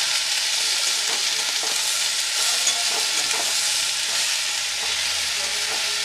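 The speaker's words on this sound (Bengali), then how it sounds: "ভালো করে কষিয়ে নেব" Spice paste with crushed garlic being sautéed in a pan for a prawn curry on low-to-medium heat, giving a steady, close sizzle broken by light stirring scrapes and no talk.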